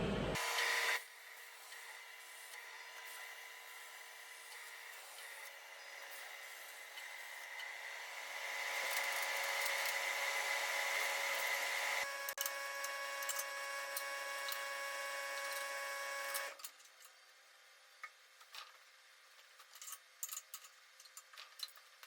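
A cutting torch cuts steel parts for a low loader trailer rebuild with a steady hissing roar that starts abruptly, builds louder midway, then stops, leaving faint clicks and taps.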